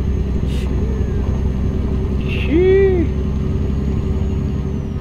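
A heavy truck hauling a log chipper in American Truck Simulator strains uphill as its wheels slip, a loud, steady engine rumble with faint tonal whines rising briefly above it.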